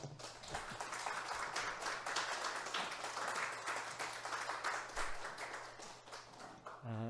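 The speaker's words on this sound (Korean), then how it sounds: "박수로 모시겠습니다." A church congregation applauds to welcome a visiting missionary at a Sunday worship service, a soft, steady wash of clapping that holds for several seconds, somewhat distant.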